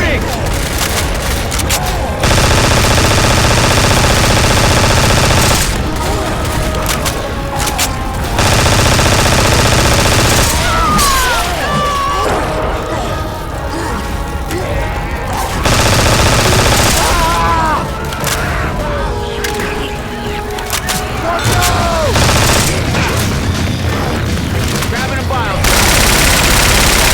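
Loud sustained gunfire in the video game Left 4 Dead 2, long bursts of rapid automatic shots with booms, broken by a few brief lulls and game effects, with voices speaking in the mix.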